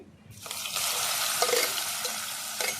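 Chopped onion hits hot oil with dry red chilli, whole cumin and a bay leaf for a chicken curry, bursting into a loud, continuous sizzle after a brief quiet start.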